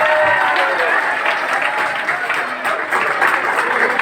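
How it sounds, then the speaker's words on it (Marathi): A crowd at a felicitation ceremony for journalists claps loudly and steadily, a dense wash of applause that carries on without a break, with voices talking underneath. "सर्वांनी जोरदार टाळ्या वाजवा सगळ्यांच्यासाठी"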